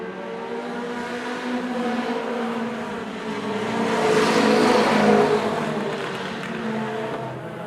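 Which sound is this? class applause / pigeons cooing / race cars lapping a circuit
race cars lapping a circuit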